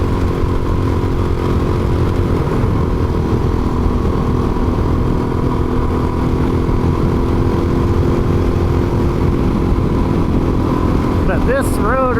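A DRZ400S dual sport motorcycle hums steadily as it cruises up a smoky canyon road, its engine a constant mid-pitched drone with wind rush, while a rider talks over it throughout.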